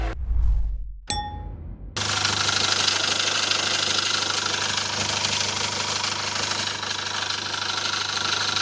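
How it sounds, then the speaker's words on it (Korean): A metallic clang rings out, then a used SsangYong Korando Sports SUV engine idles steadily nearby under an open hood, a smooth continuous hum with a faint rhythmic knock. "엔진 소리도 굉장히 좋고 부조도 없습니다"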